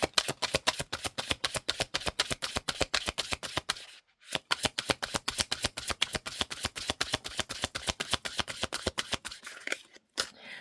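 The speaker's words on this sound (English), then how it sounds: "I'm going to shuffle these." Rapid riffle shuffling of tarot cards, a dense run of crisp flicks repeated steadily, with a brief pause before a second burst and a few final taps.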